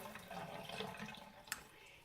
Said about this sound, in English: And we drain the water off.